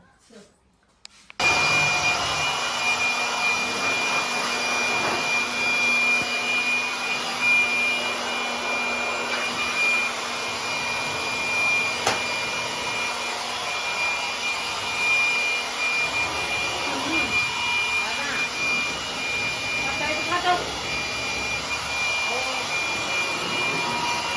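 An electric air blower runs while dust is blown out during house cleaning, a loud, steady whooshing whine that starts abruptly after a brief click and continues unbroken at close range, with faint voices beneath it.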